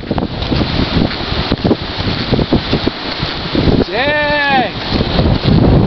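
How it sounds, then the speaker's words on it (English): Cold wind gusts buffet the microphone beside a flooded river, a loud rumbling roar throughout, while a person speaks briefly. "Dang, that wind is cold."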